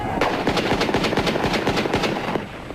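Firearms fire in rapid succession during an armed clash between security forces and unidentified gunmen, about fifteen sharp, loud cracks in a fast, uneven burst that stops abruptly.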